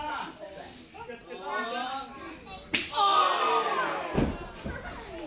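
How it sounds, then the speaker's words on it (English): A wrestler's kicks land on an opponent's chest at a live WrestleForce show in Chelsea: a sharp, loud slap cracks out midway, then another heavy thud follows, amid crowd noise and excited voices. "Oh no, these kicks are devastating."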